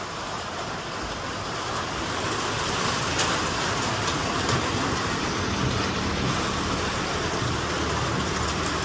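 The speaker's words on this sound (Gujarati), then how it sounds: "તમને અવાજ તો આવતો છે અને આ અવાજ આવે છે વરસાદનો." Steady rain falls on a hot summer afternoon, a dense, unbroken hiss that stays constant and close throughout, with no voices.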